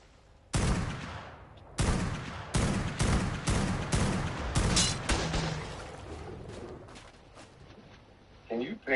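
Repeated bursts of gunfire in the Ark survival game as players shoot at a tribe's forge, loud sharp volleys in irregular clusters with echoing tails, fading toward the end.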